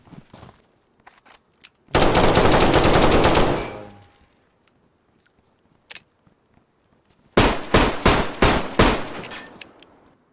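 An AK rifle fires in the video game DayZ: a loud, dense two-second automatic burst, a lone shot after a pause, then a rapid string of separate heavy shots closing out the clip.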